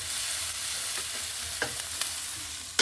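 Vegetables fry in avocado oil in a hot pan over medium-high heat with a steady, close sizzle, punctuated by occasional light taps and one sharper clack near the end. No voices are heard.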